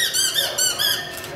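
A squeaky toy is squeezed three times in quick succession, giving loud, close, high-pitched wavering squeaks, each slightly longer than the one before, with no talking.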